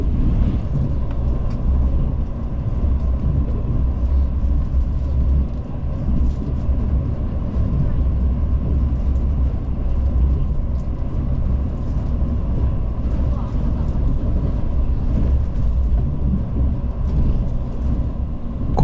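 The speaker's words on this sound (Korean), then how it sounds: "열차는 시속 124km의 속도로 다음 정차역인 대전역으로 향합니다" Mugunghwa train running at speed on the Gyeongbu Line near Daejeon, heard from inside as a continuous loud low rumble with rhythmic wheel clatter.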